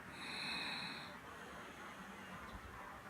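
A long, forceful exhale through the nose during Ashtanga yoga practice, a breathy hiss that tapers off after about a second, followed by quieter steady breathing, close and soft with no talk.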